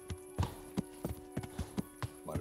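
Horse hooves clip-clop at a steady riding pace in the medieval video game Kingdom Come: Deliverance, roughly eight clear, evenly spaced strikes over a faint continuous background.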